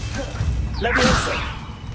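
A Leviosa spell cast in Hogwarts Legacy gives a short rising magical whoosh with a shimmering swell over a low game rumble, peaking mid-clip and fading.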